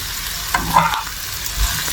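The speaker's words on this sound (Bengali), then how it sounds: "এখানে হচ্ছে খাসির কলিজাটা ভুনা করে নিচ্ছি" Mutton liver sizzles as it is fried in a pan, a close, steady crackle broken by a couple of scraping stirs, with no talking.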